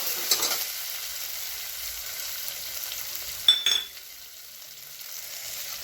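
Ground spice paste sizzles in hot oil with curry leaves in a pan for a traditional Maharashtrian Bhogi vegetable dish, with a constant close frying hiss and a brief burst of scraping stirring midway, no voices.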